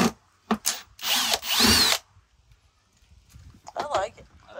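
A power drill driving screws whirs in a couple of short bursts, loud and close, followed by quieter handling noises and a brief voice.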